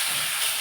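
Ash gourd pieces hitting hot oil with bay leaves and green chillies, a loud, dense hissing sizzle that fills the whole brief moment, close up with no talking.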